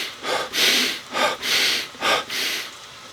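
A person breathes in fast, forceful bursts, as rapid energising breathing meant to wake up. About four loud, rushing breaths come close to the mic, with no talking.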